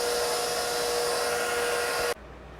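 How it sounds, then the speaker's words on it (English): A stand mixer kneading bread dough for Filipino Spanish bread, a steady loud motor whine running evenly before switching off abruptly. "I'm gonna mix it in my mixer about 7 to 8 minutes."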